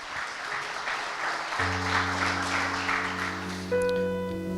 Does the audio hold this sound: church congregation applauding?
yes